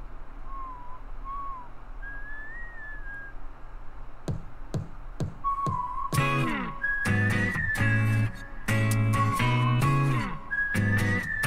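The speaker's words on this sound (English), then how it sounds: "Get a little whistle action" A whistled melody opens a song from its official music video, first soft and alone, then riding over punchy drum hits and bright synth music as the track kicks in.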